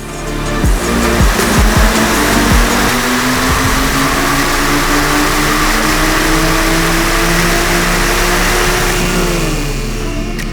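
A tuned Porsche Carrera S with a stage 2 file and PDK gearbox pulls hard on a dyno in fifth gear, engine roaring loud and steady as revs climb smoothly from low to high RPM, with a constant drone throughout.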